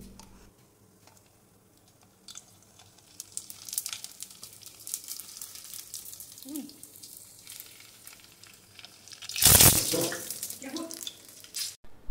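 Fuchka puris frying in hot oil, giving a quiet background sizzle that bursts into a loud, sharp spattering crackle near the end.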